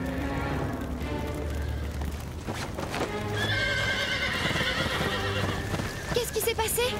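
Cartoon horses neigh and whinny while hooves clip-clop in a hurried gallop during a stable fire, busy and loud throughout, with a sharp high whinny near the end.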